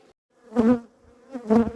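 Honeybees buzz at their hive in two swelling pulses close by, a droning hum that rises and fades, with faint background noise between.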